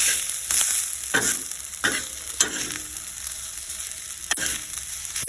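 Leftover food reheated in a pan, a continuous gentle sizzle broken by several scraping strokes of a spoon stirring and turning it, close and fairly quiet.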